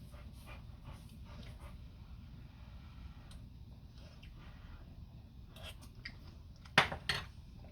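A dog pants softly and steadily in a quiet room, faint and close, with a few sharp clatters near the end.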